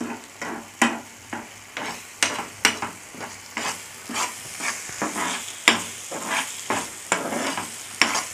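Green chili pickle gets stirred in a pan over a high flame, a steady sizzle under regular scraping strokes of a spoon against the pan, close and fairly loud with no talk.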